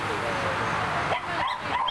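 Many dogs bark, yip and whimper together inside a crowded shed where about sixty are crammed in stacked cages, a dense, continuous din of overlapping cries with sharper yelps standing out near the end.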